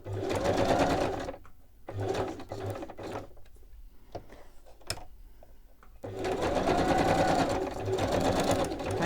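A sewing machine stitches around a folded, recycled book page in a craft project, its steady mechanical whirr loud at the start, dropping to quieter intermittent stitching in the middle, then running continuously again near the end.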